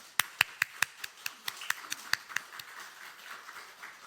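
A church congregation at an Easter Sunday service claps in unison, a steady rhythmic run of sharp hand claps that is loud at first and gradually thins out toward the end.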